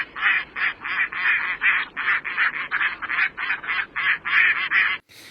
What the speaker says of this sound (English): you guys can hear what it sounds like, what they have in this app to tell for a mallard drake